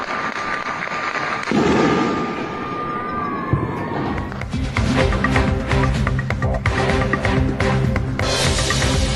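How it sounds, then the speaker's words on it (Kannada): Heavy gunfire exchange along the Line of Control in the Poonch, Akhnoor, Uri and Baramulla sectors: a wailing tone gives way to dense, rapid bursts of loud cracks and booms. "ಪೂಂಚ್, ಅಕ್ನೂರ್, ಉರಿ, ಬಾರಾಮುಲ್ಲಾ ಸೆಕ್ಟರ್ನಲ್ಲಿ ಭಾರೀ ಗುಂಡಿನ ಚಕಮಕಿ ಮುಂದುವರೆದಿದೆ"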